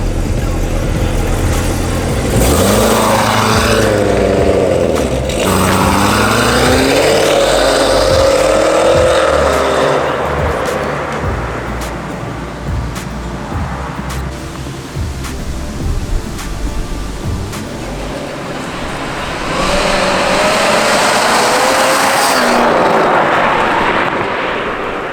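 A Corvette C7 Z06 V8 with modified headers and exhaust revs loud and close in repeated rising, falling pulls, dropping back to a rumbling idle between bursts before a final sharp climb.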